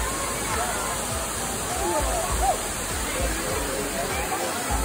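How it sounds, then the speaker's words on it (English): Steady rushing roar of a waterfall along the Road to Hana in Maui fills the scene, constant and loud, with faint voices mixed in underneath. "And that's our waterfall."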